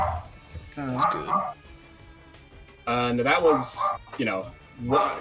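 A dog barks and yips in short bursts in the background while people talk during a tabletop role-playing game session.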